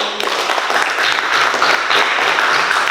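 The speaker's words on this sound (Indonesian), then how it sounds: "Oke, kita berikan aplaus untuk Marda." A classroom audience applauds a student, a dense burst of many hands clapping continuously and loudly for a few seconds.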